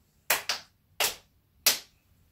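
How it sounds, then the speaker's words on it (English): Three sharp hand claps, the first two close together and the third after a pause, clear and near in a quiet room during a Sunday school game. "Put your hands over your head and clap 3 times."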